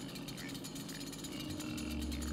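In the video game Doom, a chainsaw weapon revs with a loud, dense, continuous mechanical buzz that grinds steadily without a break, with a faint voice partly underneath.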